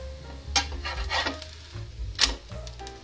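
Ghavne, thin rice crepes, roasting on a pan: soft scraping and stirring clinks with a faint sizzle, several sharp metallic taps spaced irregularly, no talking.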